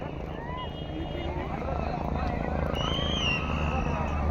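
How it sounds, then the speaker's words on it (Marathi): A helicopter carrying actor Govinda to an election campaign rally in Pusad makes a steady, loud rotor drone nearby, with an excited crowd chattering and calling out beneath it. "एवढ्या जवळ हेलिकॉप्टर पहिली वेळ पाहिला आपण"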